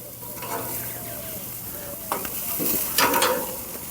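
Pork sizzles steadily on a Monument Grills Mesa II 410FBZ gas grill with all burners on high, a close, continuous crackling hiss with a few louder spits and scrapes.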